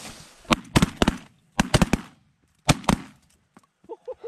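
Shotgun blasts during a duck and goose hunt, three quick clusters of sharp, loud reports fired in rapid bursts, followed by quieter faint pops and a brief call.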